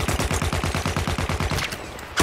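Rapid automatic gunfire in Battlefield 1, a dense string of about twenty close, loud shots at a steady fast rhythm, thinning out near the end and followed by a louder thump.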